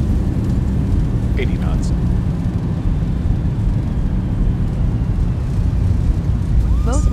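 Boeing 737-800 thrust reversers roaring during landing rollout in the X-Plane 12 flight simulator, a steady loud broadband rumble throughout with a voice calling out speed over it.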